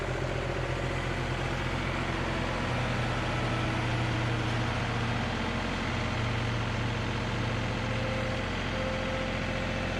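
A John Deere 2038R compact tractor runs steadily at idle or low revs with a constant low engine drone, close and unbroken, while it sits near erosion mat on a landscaping job.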